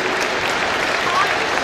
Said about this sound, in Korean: 여러분, 정형근 이사님을 큰 박수로 환영해 주시면 대단히 좋겠습니다.